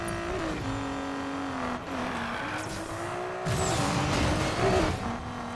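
A Nissan Skyline GTR R32 race build in Need for Speed Payback drives hard, its engine holding a steady high drone that dips and climbs with gear shifts and revs, with a brief tire squeal near the end.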